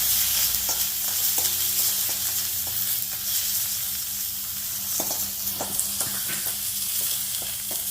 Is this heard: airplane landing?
no